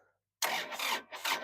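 A cold tractor engine fires after its glow plugs have been heated: silence, then a sudden loud, rough burst of running noise that keeps surging and dipping close by.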